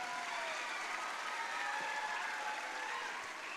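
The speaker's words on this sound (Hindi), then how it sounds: "आप ताली बजा सकते ना." Audience applause at a school annual day celebration, a steady, dense wash of clapping from a large crowd that holds at an even level throughout without breaks.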